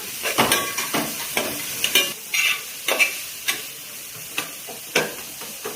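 Sautéing in a pan with a pinch of salt brings a continuous sizzle under rhythmic, close spatula scrapes and clicks against the pan, about a dozen strokes in irregular succession, without talk.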